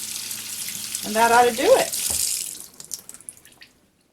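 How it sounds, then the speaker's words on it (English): Cold tap water runs over leeks in a kitchen sink, a steady close splash under a man's brief speech that tapers into scattered drips as the flow stops. "then I run it under cold water like this"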